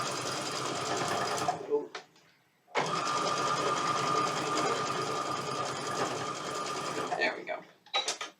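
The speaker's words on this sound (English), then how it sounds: "So now we're just gonna sew it all the way down." Sewing machine stitching cotton fabric in two long runs of fast, steady mechanical whirring, close and loud, with a short pause between them and a person briefly speaking near the end.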